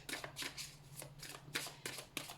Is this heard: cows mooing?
no